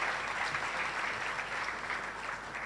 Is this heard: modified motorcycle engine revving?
no